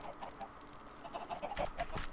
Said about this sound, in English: So let's go see how many of these we can feed to the chickens.